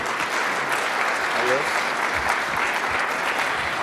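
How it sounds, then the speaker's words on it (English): Steady applause from a morning audience at a 1 Million Cups startup event in Kansas City, a dense wash of clapping holding for several seconds. "give these guys a big round of applause"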